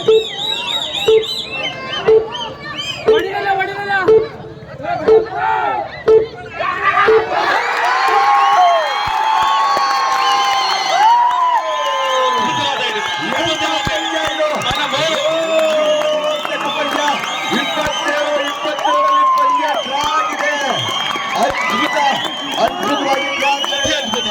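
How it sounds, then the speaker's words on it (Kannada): Spectators roar and cheer at a village kabaddi tournament match for the Pulikesi Cup in Hessarghatta, 2021. A commentator's voice is heard before a loud, sustained swell of shouting and whooping. "ಅದ್ಭುತ ಪ್ರೇಕ್ಷಕರ ಹರ್ಷೋದ್ಗಾರ"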